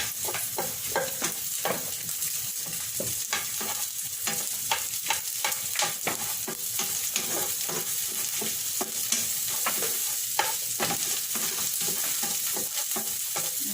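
Onions sizzle in hot oil for beef kaldereta, a continuous close frying hiss broken by frequent scraping stirs of a spoon in the pan, with no voices.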